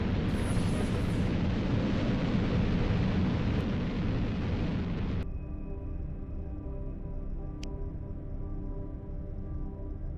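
A rocket launch in the space colony game Sol 0 gives a loud, steady roaring rumble for about five seconds, then cuts to a quieter hum with faint tones and a couple of brief clicks.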